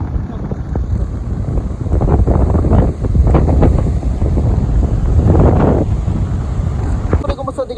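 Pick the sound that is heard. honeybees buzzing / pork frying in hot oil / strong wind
strong wind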